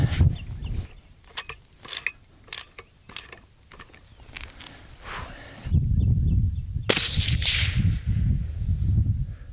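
A suppressed 6mm ARC rifle fires a single sharp, loud report at an outdoor range shooting paper and steel targets at 100 to 600 yards, heard amid light clicking handling noises and low wind rumble.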